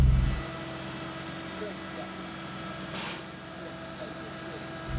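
A supercharged BMW E30 M3 with an S52 engine swap idles and pulls out, a steady low engine drone heard from inside the cabin with a soft whoosh partway through.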